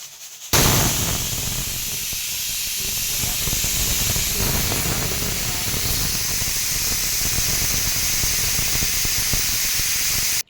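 A pressure cooker on a gas flame hisses steam loudly and continuously while cooking lentils and brinjal for village-style dal vangi, a harsh, steady close-up spray with no talk over it.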